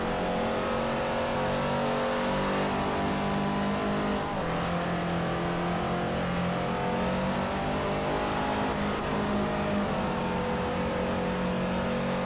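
A race car in the Forza Motorsport 4 game, on a superlight open-wheel speedway run, drones at high revs in a steady, loud, continuous engine whine with rising and shifting tones and no talking.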